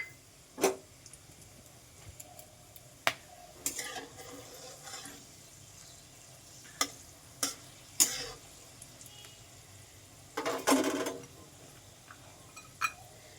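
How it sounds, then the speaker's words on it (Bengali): Two bay leaves and whole garam masala hit hot oil in a pan, giving faint sizzling with scattered sharp clinks and scrapes of stirring and a brief louder crackling burst. "এর মধ্যে এবার ফোড়নে দিয়ে দেবো 2টো তেজপাতা, গরম মশলা, গোটা গরম মশলা"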